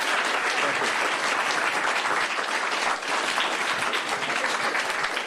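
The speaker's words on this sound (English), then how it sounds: "But please give him a round of applause." An audience at a racial justice learning event breaks into a steady round of applause, dense and even throughout with no talking over it.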